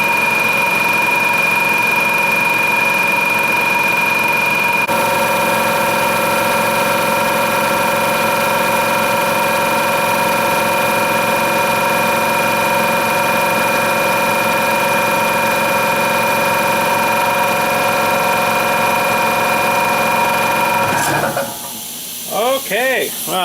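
An air compressor engine runs steadily during a test fire after its line was refitted, giving a loud, continuous droning hum with a hissy edge that cuts off near the end, leaving quieter scattered noise.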